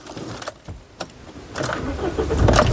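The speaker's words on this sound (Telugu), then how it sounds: "సింగిల్ సెల్ఫ్లో కార్ స్టార్ట్ అవుతుంది, ఎటువంటి స్టార్టింగ్ ట్రబుల్ అయితే లేదండి" A 2015 Mahindra Scorpio S10 starts on a single crank: a light jingle of keys and a click, then the starter catches and the engine settles into a steady, close idle that grows louder.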